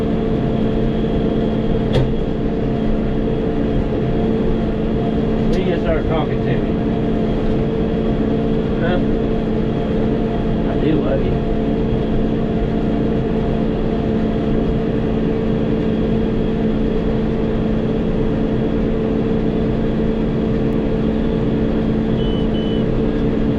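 A tractor engine runs steadily during hay raking and baling, a constant low drone with a hum that barely changes, close by for the whole stretch, with a few faint clicks and knocks on top.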